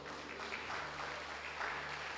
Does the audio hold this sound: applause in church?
yes